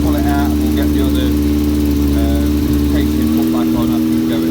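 Yamaha XJ600 motorcycle engine running with an exhaust leak, a loud steady mid-pitched drone with a faint ticking chuff, briefly shifting near the end, with no talking.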